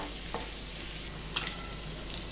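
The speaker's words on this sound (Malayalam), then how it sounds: "ഇത് നല്ലതുപോലെ നമുക്കൊന്ന് സോട്ട് ചെയ്തെടുത്തുകൊണ്ട് വരാം" Paneer cubes sautéing with spice powders in a pan give a soft, even sizzle, with a couple of quick stirring scrapes cutting through.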